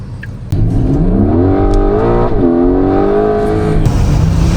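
A Porsche 911 GTS T-Hybrid in sport mode accelerates from inside the cabin, its engine note climbing steadily through a shift and rising again, loud and close.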